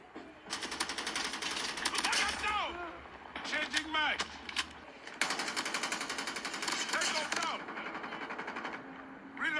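Rapid automatic M4 rifle fire in a mobile shooter game played on a Samsung A36, coming in three long bursts of dense, crackling shots with short gaps between them. The bursts are loud and up close, with game effects mixed in.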